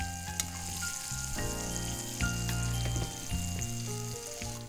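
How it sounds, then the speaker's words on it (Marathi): Pork frying in a pan until reddish brown for chili pepper pork, giving a steady sizzle with occasional stirring, heard close with no talk over it. "ते त्याला चांगलं तर लालसर भाजून घ्यायचं आपल्याला"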